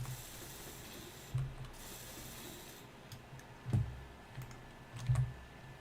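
A block welder in the video game Space Engineers runs with a steady low mechanical rattle, broken by a few brief, heavier clunks spaced a couple of seconds apart. No one speaks.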